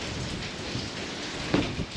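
Heavy rain from Storm Bert pours onto a Mercedes Vario camper van, a dense, steady hiss of drops. It is close and continuous, with one sharper patter near the end.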